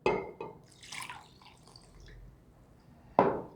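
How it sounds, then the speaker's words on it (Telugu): Water is poured over saved eggplant seeds in a container, producing a few short, quiet splashes and drips separated by near silence, with a sharper splash at the end. "సో ఇవన్నీ ఇందులో నేను నీళ్ళు పోసేస్తాను కొంచెం."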